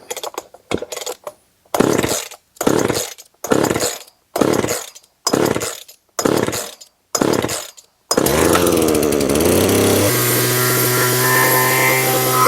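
Husqvarna 141 chainsaw with a suspected intake leak, starting with a series of short sputtering pulls and bursts, then settling into a loud, continuous, fast high idle that rises in pitch, close by.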